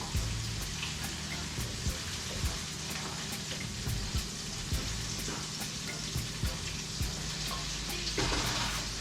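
Shrimp fry in grease in a pan, giving a dense, steady crackling sizzle with scattered sharp pops that runs unbroken and fairly close throughout.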